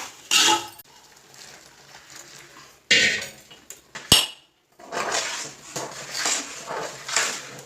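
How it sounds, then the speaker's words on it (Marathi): Boiling milk is poured into a metal pot of semolina for sheera prasad, with clanking pots and utensils in short bursts followed by a steady pouring and sizzling rush. "म्हणून तो टोप मी खाली उतरवून घेते आणि मग ह्याच्यामध्ये उकळतं दूध टाकते."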